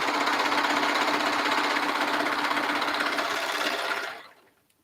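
A home sewing machine runs fast and steady while stitching a romper, a continuous close buzzing hum that holds for about four seconds before winding down and stopping.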